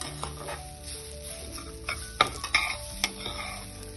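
Semolina and grated coconut being stirred and dry-roasted in a pan, with a spoon scraping and clinking against the metal in irregular strokes over a soft sizzle.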